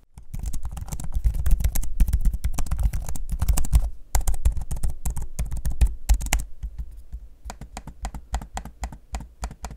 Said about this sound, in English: an audio sample of me using both the keyboard and trackpad so you can hear for yourself